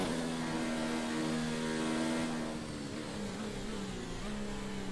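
An F1 race car engine screams under throttle in the F1 2019 video game, a steady high-pitched tone that dips slightly as it shifts, loud and continuous throughout.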